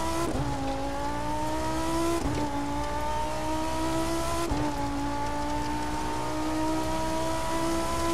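Lamborghini Huracán LP610-4 engine in The Crew 2 revving up through the gears in three steady rising sweeps, each cut by a shift, loud and continuous with no talk.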